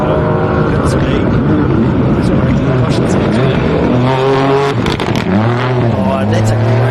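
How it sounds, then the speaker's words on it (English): A Toyota GR Yaris AP4 rally car with a three-cylinder engine passes on a forest rally stage, its loud engine note sweeping and rising as it goes by, with a commentator talking over it throughout. "now we'll see Hayden and Kieran Anstis, the Albany Toyota Yaris AP4 car with the 3-cylinder GR Yaris engine."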